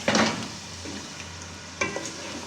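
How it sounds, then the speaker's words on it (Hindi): Potatoes fry over medium heat in a pan for aloo palak, a steady sizzle broken by two sharp scraping bursts from stirring, close and clear with no talking. "3-4 मिनट भूनेंगे आलू।"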